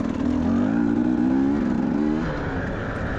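Enduro motorcycles ride past on a training outing in Pyrohy, a steady loud engine drone with a rising rev in the middle that eases off toward the end, close and continuous.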